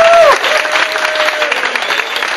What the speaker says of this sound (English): Give Aaron a round of applause, please.